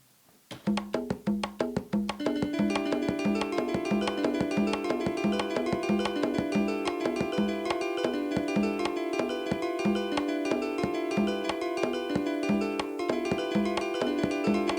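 A Scratch program plays a looping electronic drum beat built from four patterns together with repeating guitar notes, a steady, busy rhythmic pattern that runs continuously at an even level with no talking.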